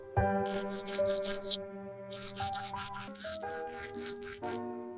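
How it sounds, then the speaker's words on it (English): A toothbrush scrubs teeth in quick, raspy back-and-forth strokes, arriving in two bursts of brushing over soft, steady music. "I brush my teeth."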